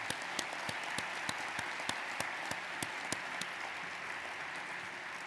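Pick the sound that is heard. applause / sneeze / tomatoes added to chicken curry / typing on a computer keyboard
applause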